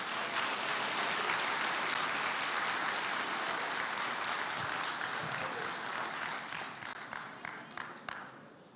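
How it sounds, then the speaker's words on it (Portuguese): A church congregation at a Bible school session for workers and members breaks into sustained applause, a thick roomy wash of many hands that thins near the end into scattered individual claps. "Você pode aplaudir a Jesus."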